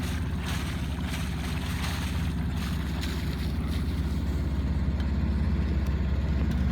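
An Island Packers boat cruising past near Santa Cruz Island: a continuous low engine rumble with wind and water wash, steady and fairly close throughout.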